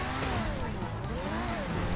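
A GTA 5 Overflod Entity-successor supercar engine in the video game revs and holds a steady, loud, rising and falling whine while cornering, with faint tire noise and someone talking over it.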